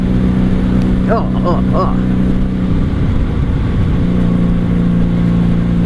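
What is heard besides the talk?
1997 Honda Magna VF750C motorcycle engine while riding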